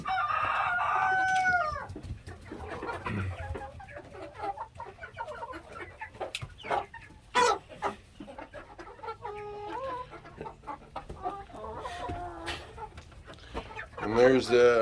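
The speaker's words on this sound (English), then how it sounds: "that's a rooster that's aggressive." A rooster crows loudly near the start, and another crow comes at the end. Between the crows a person talks, with clucks and other farm bird calls scattered around them.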